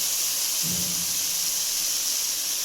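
Spiced whipped yogurt hits a hot pan and sizzles, a steady bright hiss filling the whole stretch with a short low thud as it lands, close and without talk.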